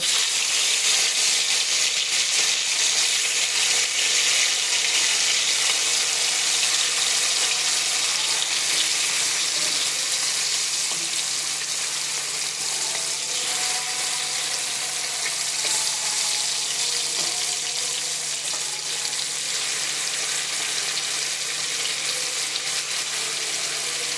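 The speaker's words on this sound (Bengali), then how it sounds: "এখন আমি মাছটা ফ্রাই করে নেব" Fish frying in a large wok, a dense, steady hiss of hot oil held at a constant level throughout, close and uninterrupted, with no voices.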